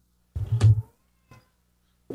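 Pet cats on a cat tower give one short, low, growly meow, then a faint brief squeak, then another low cry starting at the very end, close-up with silence between.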